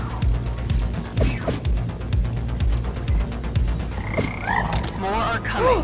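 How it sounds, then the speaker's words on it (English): Repeated frog croaks in a video game, a steady series of low rhythmic calls with occasional thuds and a few higher chirps near the end, fairly loud with no talk over them. "Oh, it made a frog song!"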